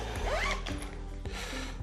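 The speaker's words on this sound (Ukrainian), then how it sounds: "Тут також застібочка на плівочці." Zipper on the plastic film packaging of a Rowenta Ultimate Experience hair dryer, with a few short scraping zips and crinkling plastic close to the mic, no talk.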